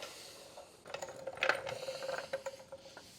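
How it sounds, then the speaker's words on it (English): A trolley jack scrapes and clicks as it is pushed along the ground under the jacking point of an 11th-generation Toyota Corolla, a short run of close metallic rattles and ratchet-like ticks in a quiet garage. "we just push our trolley jack in roughly to the center point."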